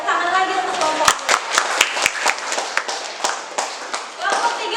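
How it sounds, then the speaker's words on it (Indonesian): A classroom gives group 2 a short round of applause: a handful of sharp, scattered claps ring out under a teacher's ongoing talk, then fade as speaking continues. "kita kasih tepuk tangan lagi untuk kelompok 2"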